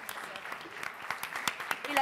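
Clapping breaks out in a Cannes press conference room for friends seated in the front row. The distinct claps are fairly close and come in an irregular patter, with some voices mixed in.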